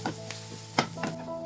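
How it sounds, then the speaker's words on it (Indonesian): Onion sautéing in a little oil in a hot pan, giving a soft steady sizzle with a few brief stirring scrapes and clicks of a utensil, close and moderately quiet, with no voices. "Panaskan wajan dan beri minyak sedikit, lalu tumis bawang bombay hingga terkaramel atau berubah warna."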